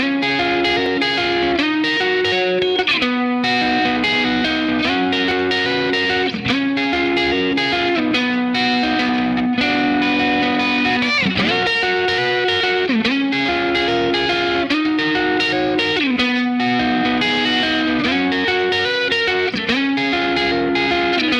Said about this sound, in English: there's an electric guitar riff that goes on behind the acoustic guitar riffs during the chorus